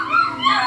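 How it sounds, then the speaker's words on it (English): A white wolf-like dog howls on command, a close, loud wavering wail with rising and falling pitch, sustained through the moment. "The white wolf singing dog."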